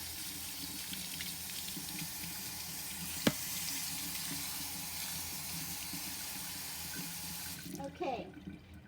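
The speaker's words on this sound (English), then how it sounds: "So, I'll wash that off." Raw chicken pieces being rinsed under a running kitchen tap while making chicken vegetable stock: a steady, close splashing stream with one sharp knock partway through, then quieter handling at the end.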